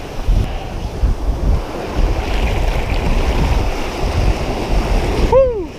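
Ocean surf washes steadily onto a Gulf beach with wind buffeting the microphone, a continuous loud roar of breaking waves from start to end.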